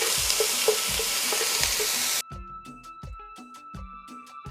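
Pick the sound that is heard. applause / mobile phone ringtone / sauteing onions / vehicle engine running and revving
sauteing onions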